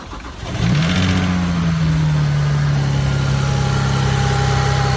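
BMW 335i inline-six cranks over and catches, then settles into a steady, loud idle close by with a faint whine riding above it, no voices.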